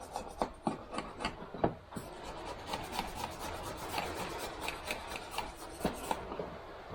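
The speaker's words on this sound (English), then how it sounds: "Remains of old gasket coming off." Old gasket remains scraped off an LT95 gearbox casing with repeated rough rasping strokes, close and fairly quiet, in an irregular back-and-forth rhythm.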